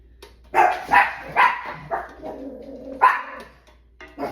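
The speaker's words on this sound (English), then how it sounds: "What would a video be without them barking?" Dogs in a home kitchen, heard while scallops simmer, bark in a series of sharp, fairly close barks with short gaps between them, and no talk over them.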